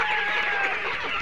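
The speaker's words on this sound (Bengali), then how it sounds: "আপনার কাছাকাছি সব মুরগি চলে আসবে।" Layer hens clucking in a poultry farm room as they crowd close, expecting to be fed on a winter morning; a steady, fairly loud chorus of overlapping clucks with no talking.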